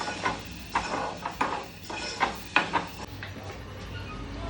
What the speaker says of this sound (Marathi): हा बस चमचा फिरव. आता फिरव.